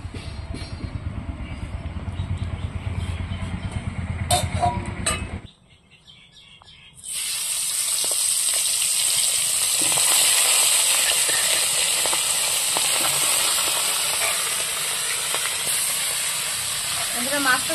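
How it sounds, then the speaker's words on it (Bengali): Tengra fish fry in hot oil in a karai, cooked village style. A low muffled rumble fades to a brief hush, then a loud, steady sizzle bursts in and keeps hissing strongly to the end. "এখন আমি মাছ ভাজার জন্য তেল দিয়ে দেব"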